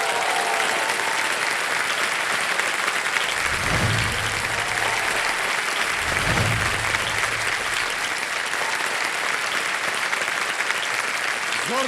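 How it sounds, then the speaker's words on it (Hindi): Studio audience on a Hindi quiz show breaks into loud, sustained applause welcoming actress Shefali Shah, dense clapping filling the whole stretch with a couple of low thumps partway through. "जोरदार तालियां शेफाली शाह जी के"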